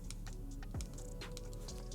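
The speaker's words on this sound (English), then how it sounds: "The old HS80 power button sounded like" The power button on an older Corsair HS80 headset is pressed several times, giving quick, light clicks close to the mic over a steady background hum.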